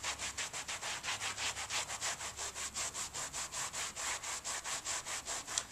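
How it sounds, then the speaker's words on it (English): Rhythmic back-and-forth scrubbing on a stained cotton rug, a steady series of about twenty-five close, raspy strokes at an even brisk pace. "There is a stain that I find, and I'm going to start scrubbing it."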